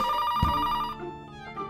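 An electronic telephone ringtone sounds loudly and continuously with sustained tonal rings, heard alone in an indoor television drama scene with a brief thump partway through.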